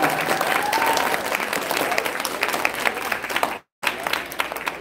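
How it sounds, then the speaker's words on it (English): Students applauding at a National Junior Honor Society induction ceremony, a sustained round of clapping with a brief dropout near the end and a voice faintly over it. "Give yourself a round of applause."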